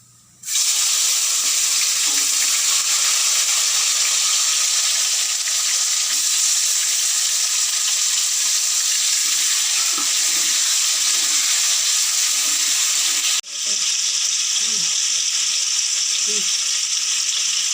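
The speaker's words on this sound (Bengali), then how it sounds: "কড়ায় তেল গরম হয়ে গেছে এবারে কালো জিরে ফোড়ন দিয়ে দেবো এরপরে কেটে রাখা টমেটো কেটে রাখা টমেটো দিয়ে দেবো" Chopped tomatoes and black cumin seeds frying in hot oil in a wok, a loud, steady close sizzle and hiss that starts abruptly and continues throughout, briefly dipping once near the end, with faint voice underneath.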